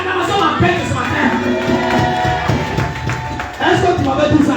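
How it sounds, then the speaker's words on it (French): A church congregation acclaiming Jesus, with crowd cheering and scattered clapping rising under a preacher's voice, swelling again loudly near the end. "Est-ce que tu peux acclamer Jésus?"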